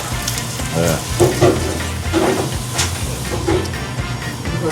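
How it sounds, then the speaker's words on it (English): Jamaican food sautés in a little oil with a bright, continuous sizzle and hiss, broken by brief stirring knocks and scrapes close by. "You go saute it. Yeah. A little bit of oil."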